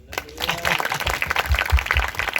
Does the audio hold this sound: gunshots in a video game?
no